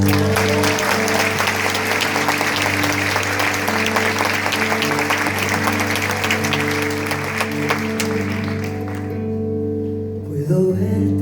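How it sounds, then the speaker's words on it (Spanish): Live concert audience applauding loudly and steadily over sustained music, with the clapping thinning out near the end. "Fuerte el aplauso, por favor."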